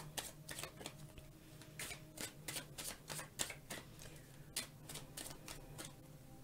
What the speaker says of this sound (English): I always just shuffle until like I get the feeling to stop